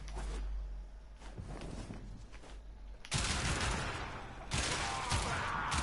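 Weapon fire in the video game Warframe: rapid bursts of shots hit after quieter stretches of softer thuds, with the gunfire getting louder and denser in the second half.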